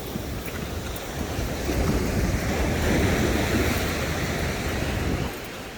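Waves wash onto a beach during a forest and beach walk with a dog, a steady rolling surf that swells in the middle and eases near the end, blended with wind buffeting the microphone and no voices.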